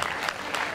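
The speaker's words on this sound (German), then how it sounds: "dafür nochmal einen Applaus" An audience claps steadily at a Danish festival-week choir and dance show, a dense wash of applause through a very short moment.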